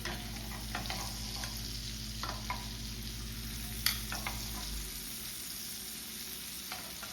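A steak fries in a pan with butter, sizzling loudly and close, with scraping and stirring sounds on top. A low background hum stops partway through.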